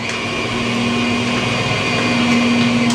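An electric stand mixer running on low speed while mixing batter for tart cherry pistachio shortbread cookies, a steady, loud continuous motor whir with a constant hum throughout.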